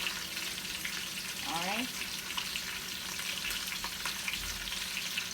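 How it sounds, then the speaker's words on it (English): Fish frying Jamaican-style in a pot of hot oil, a steady dense sizzle running the full length, with a brief spoken word partway through. "I'm frying fish"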